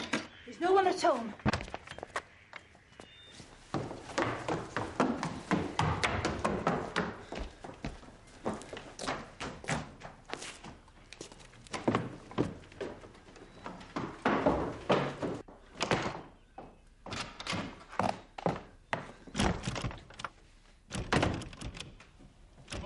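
Heavy pounding on a wooden door by men threatening to break it down, a series of loud thuds spread through the clip and mixed with shouting voices.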